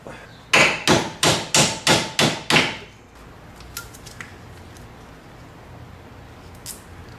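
Seven sharp, evenly spaced hammer blows ring out close by as the clamp tabs on a Toyota 4Runner power steering rack boot are bent over, followed by quieter clinks and handling noises.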